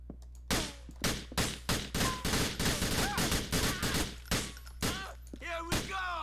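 Shotgun blasts in GTA 4 fired in a rapid, close series of about a dozen sharp booms, with short shouted voices mixed in between the shots.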